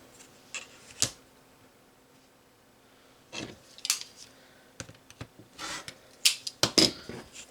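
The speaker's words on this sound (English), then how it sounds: "I'm just going to cut like this little strip off." Scissors snipping a small strip off craft material, scattered short clicks and snips with pauses between, close and fairly quiet.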